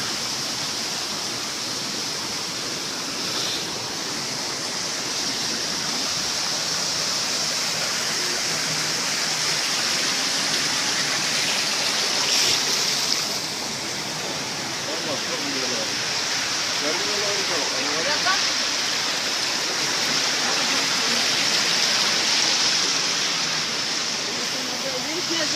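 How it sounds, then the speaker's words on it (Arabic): Water gushing out from inside a cave makes a loud, continuous rushing roar like a waterfall that stays steady throughout, with faint voices under the torrent. "ليست مياه أمطار ولا مياه بحيرة، وإنما هي مياه تخرج من جوف الكهف"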